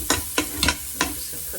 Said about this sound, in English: Just stir that around real quick just to get that fragrance.